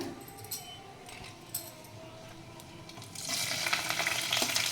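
Cashew nuts frying in a pan, with a soft, close sizzle and a few light clinks early on, then a louder, denser hiss building near the end.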